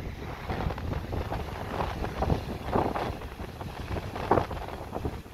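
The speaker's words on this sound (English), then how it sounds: "I apologize in advance for the wind if it's causing any ridiculous wind issues" Strong gusts at a sunset beach in Biloxi buffet the microphone in a steady low roar, swelling and easing in waves throughout, with no voices.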